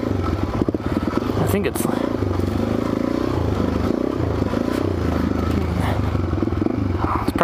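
A supermoto motorcycle rumbles steadily on a dirt trail, engine loud and close with clattering over rough ground, while a rider talks over the noise.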